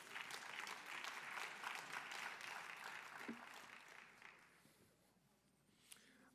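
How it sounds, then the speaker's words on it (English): A town hall audience applauds its panelists, steady clapping that is fairly quiet and distant, tapering off over several seconds with a last isolated clap near the end. "Let's give our panelists another round of applause."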